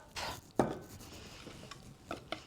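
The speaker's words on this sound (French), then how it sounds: "Et on mélange énergiquement pour pas qu'il y ait de grumeaux" Batter being stirred hard with a utensil in a bowl after flour and a pinch of salt go in, giving soft scraping swishes punctuated by a few sharp clinks against the bowl, close and fairly quiet.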